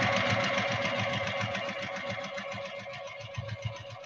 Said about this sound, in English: Drop your needle down and then sew away.